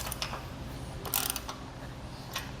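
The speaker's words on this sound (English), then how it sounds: "Now we can tighten it down all the way. We're going to do the same amount of turns on each bolt." Ratcheting clicks while tightening the bolts on a tongue-mounted crossbar, a few quick close bursts of mechanical clicking over a steady low background hum.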